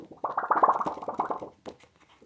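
A Razer Sphex V2 Mini mouse pad being handled close up: a quick run of soft crinkly plastic rustles and flaps, then a few faint scattered taps after a short pause.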